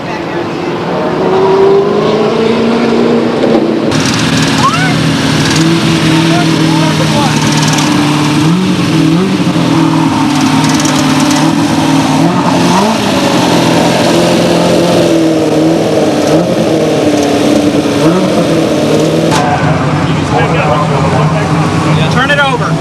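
Stock cars racing at Stockton 99 Speedway, engines droning and revving continuously with pitch shifts as cars circle the track, loud and sustained under a commentator's voice.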